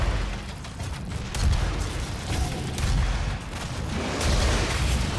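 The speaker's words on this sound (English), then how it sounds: "Oh, that is a grenade." Grenade explosion in the video game Doom 2016, a loud booming blast amid continuous chaotic gunfire and combat noise, dense and sustained with several heavy bursts.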